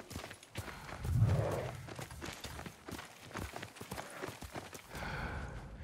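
Horse hooves clip-clop in a steady walking rhythm in a video game, fairly close and moderately loud, with other game sounds and effects around them and no talk.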